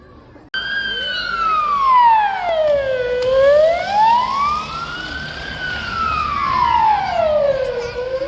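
An ambulance siren wails loudly and close during an earthquake evacuation drill at a school, its tone sweeping slowly up and down in long continuous cycles after an abrupt start.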